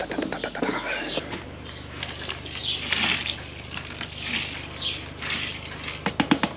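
Water pours and splashes steadily into a container nearby, with a low hum underneath and a few clatters near the end.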